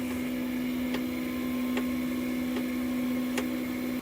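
FlashForge AD5X 3D printer calibrating, giving off a steady electrical hum with a few faint short clicks or ticks spaced about a second apart.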